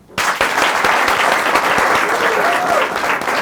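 Studio audience at a talk show claps in a sudden loud burst that holds steady and dense, with a faint voice briefly rising through the applause.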